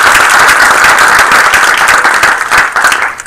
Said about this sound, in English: We give another round of applause.